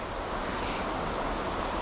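Steady rushing of an open river current running between ice-covered edges on a cold day, a continuous even wash of water with no voices.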